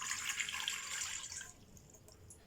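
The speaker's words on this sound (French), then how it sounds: "Donc je vais mettre 250 ml d'eau, ce qui fait 1/4 de litre d'eau." Water, 250 ml, poured into a pot: a bright, splashy stream for about a second and a half, then it stops and a quiet background follows.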